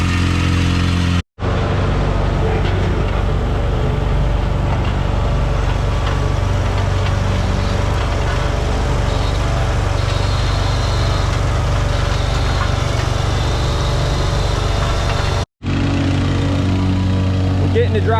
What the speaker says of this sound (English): They're using the whacker along the wall where the roller can't get